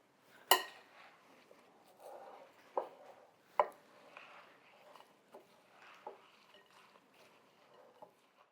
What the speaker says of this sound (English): we're going to just stir the mixture